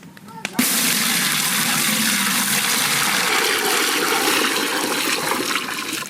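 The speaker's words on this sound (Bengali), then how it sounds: "গোবিন্দভোগ চাল ধুয়ে নেব।" Gobindobhog rice is rinsed in water for a village-style payasam: a sudden splash onset gives way to a steady, close rush of pouring and swishing water that lasts several seconds.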